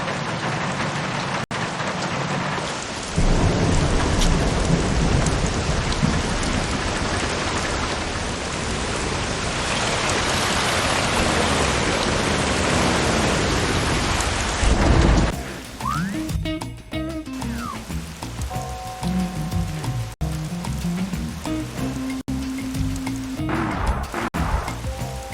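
Heavy rain pours in the Bee Movie video game as a dense, loud wash of falling water, then cuts off abruptly and gives way to quieter game effects, chimes and tonal sounds. No thunder stands out.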